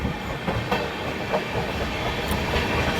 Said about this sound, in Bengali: কোদারমা থেকে ছাড়লো এইমাত্র ট্রেন